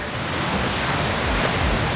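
Ocean waves break on a beach in a steady, close wash of surf that fills the whole stretch, with no voices.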